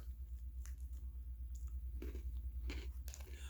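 Snyder's of Hanover twisted pretzel sticks being bitten and chewed up close, a few crisp crunches in short bursts over quiet chewing, with no talking.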